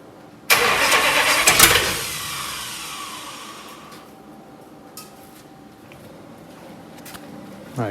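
A 1965 Imperial LeBaron engine cranks and catches with a loud burst, then settles into a steady, rumbling idle, close by. A few clanks and light knocks sound over the running engine.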